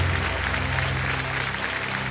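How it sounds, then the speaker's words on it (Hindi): A studio audience on the TV quiz show Kaun Banega Crorepati breaks into applause, dense continuous clapping with a music bed humming beneath it. "तालियां बज जाए।"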